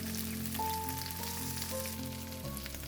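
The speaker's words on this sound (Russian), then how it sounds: "Выкладываю курицу на горячую сковородку." Chicken pieces fry in oil in a hot pan, a dense, steady sizzle and crackle heard up close throughout, with a faint tonal hum underneath.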